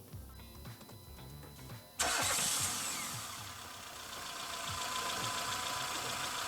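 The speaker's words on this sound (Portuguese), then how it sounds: "eu vou dar a partida no motor" A car engine cranks briefly, then fires and catches with a sudden loud roar, settling into a steady idle nearby.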